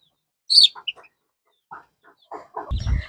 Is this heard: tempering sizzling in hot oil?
no